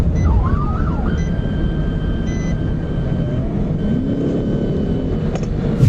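A police siren wails faintly during a highway police chase, its rising and falling sweeps half-buried under a loud, constant roar of road and engine noise.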